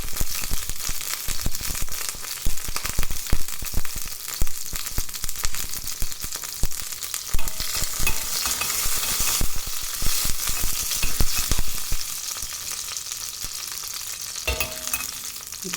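Dried red chillies fry in hot oil for curd rice, a close, busy sizzle with sharp crackles and spatters throughout, a few louder bursts near the end.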